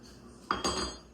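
A spoon stirs a pot of chicken and dumplings on a stovetop that has just been switched off, giving two quick close metallic scrapes and clinks against the pot, alone and fairly quiet.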